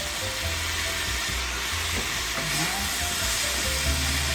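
Loud continuous sizzling of shrimp frying in a hot pan, with faint clinks and stirring underneath, close up.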